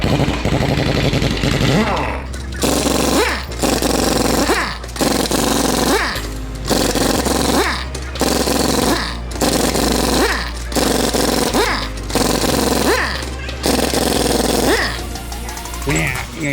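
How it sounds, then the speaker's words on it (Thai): Pneumatic impact wrench loosening lug nuts on aluminum alloy wheels in a tire shop, with repeated loud bursts of rattling hammering about every two seconds over a steady low hum. "เขาใช้เครื่องทุดแรงแบบนี้ก็ดีนะ มันน็อตมันจะได้ไม่ขาดนะ"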